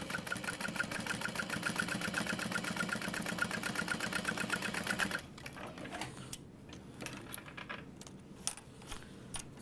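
A sewing machine top-stitches a zipper lining on a crossbody bag, a steady rapid mechanical whir for about five seconds, then stopping into quieter handling clicks and taps.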